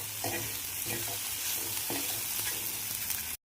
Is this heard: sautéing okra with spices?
yes